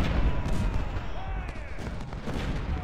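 Civil War artillery and musket fire in the strategy game Ultimate General: Civil War at Marye's Heights, Fredericksburg, a steady rumble of distant cannon booms and scattered gunshots blending together throughout.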